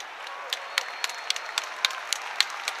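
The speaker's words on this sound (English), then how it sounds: "It's a warm round of applause from the Falkirk fans." Falkirk fans applaud at a football match against Livingston, heard as sparse, distant claps scattered over a low, steady stadium crowd murmur.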